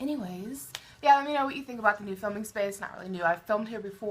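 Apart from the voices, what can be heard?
No everyday noise stands out behind the speech.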